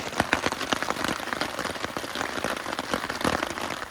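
Steady rain patters on tent fabric during a backcountry camping trip at Maple Leaf Lake in Algonquin, with dense close drops and small irregular spatters and no voices.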